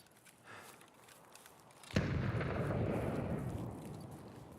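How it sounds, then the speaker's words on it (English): A grenade explosion in the video game Escape from Tarkov goes off as one sudden loud blast, then a broad rumbling roar and debris wash that lingers for a couple of seconds over quieter ambient noise beforehand. "those grenades really make it sound like it'll be a fun time"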